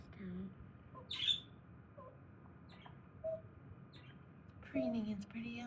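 A yellow finch gives a few faint, scattered chirps in spring. The brief high calls are spread across the moment, with quiet gaps between them.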